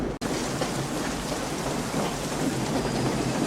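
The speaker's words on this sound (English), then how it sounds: "Rain's coming." Heavy, steady rain pours down with thunder rumbling through it in a storm scene from the 1992 western film Unforgiven, a loud, dense wash of sound with a brief dropout near the start.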